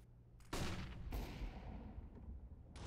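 In Counter-Strike, a sudden loud burst of gunfire rips out as shots are fired through a wall, followed by a rumbling, echoing tail that fades and flares again.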